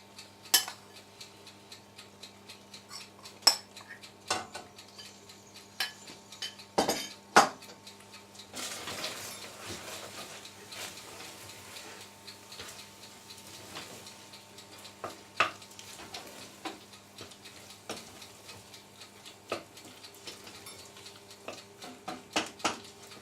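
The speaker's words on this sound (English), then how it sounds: "I'm going to stir in about 2/3 of the cheese" Cheese being stirred into macaroni cheese with leek in a pan, with soft scraping and clinks of a spoon against the pan, a few sharper knocks, and a faint steady hum underneath.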